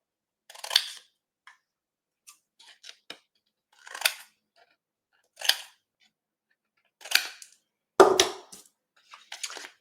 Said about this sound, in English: So I'm just going to snip up those little score lines, miter them a little bit.